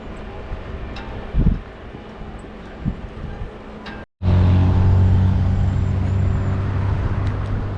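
Strong wind buffets the microphone outdoors in a steady rumbling roar, briefly cut off, then returning louder and heavier with low-pitched gusting.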